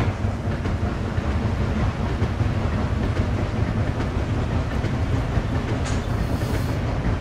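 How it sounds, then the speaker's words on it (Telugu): The Bhubaneswar Pune Superfast Express rumbles past in the Train Simulator Classic game, a steady, loud roar of wheels and carriages with faint clickety-clack, filling the whole stretch without voices. "Bhubaneswar Pune super fast express అంట, ట్రైన్ అయితే వెళ్ళిపోతుంది."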